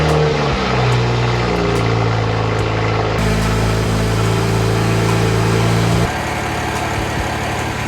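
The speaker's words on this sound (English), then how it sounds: "The clutch is super loud. These twin discs are just freaking loud" A freshly rebuilt engine idles steadily right after first startup, with a loud twin-disc clutch rattle and injector ticking over a constant low drone, its tone shifting partway through and easing off near the end.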